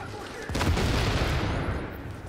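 In the video game The Division, a grenade explodes with a sudden heavy boom, followed by a rumbling, crackling roll of gunfire and blast noise that slowly fades.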